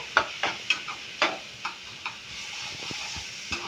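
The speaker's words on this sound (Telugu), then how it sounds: "ఇందులోనే కొంచెం అల్లం వెల్లుల్లి పేస్ట్ అండ్ కొంచెం పసుపు ఇది మంచిగా ఆయిల్లో ఫ్రై అయ్యేంత వరకు ఈ ఉల్లిగడ్డను ఫ్రై చేసుకోవాలి" Onions frying in oil with ginger garlic paste and turmeric, a faint steady sizzle broken by a series of sharp clinks and scrapes of stirring at irregular intervals.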